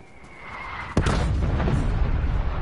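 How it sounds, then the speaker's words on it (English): Artillery strike in Call of Duty Black Ops Cold War: a low rumble builds, then a single sharp, loud explosion lands near, followed by a sustained booming roar and debris rumble. "Artillery inbound."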